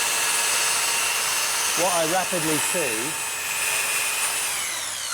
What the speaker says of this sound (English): if I turn the tunnel boring machine on